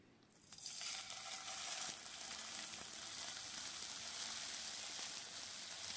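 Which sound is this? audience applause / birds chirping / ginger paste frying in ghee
ginger paste frying in ghee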